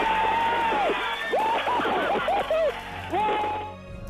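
Mission control staff cheer and applaud after the Curiosity rover's Mars touchdown, with whoops and excited shouting over a steady wash of clapping that fades out at the end.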